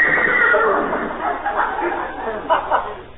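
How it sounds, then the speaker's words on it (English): A horse whinnies loudly with a shrill, wavering neigh, followed by a few shorter snorting calls, sounding slightly muffled and distant. "Great Dane? Sounded like a horse to me."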